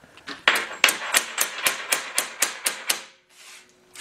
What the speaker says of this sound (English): we're going to go after a little bit with a hammer and dolly to sweeten up any areas that we don't like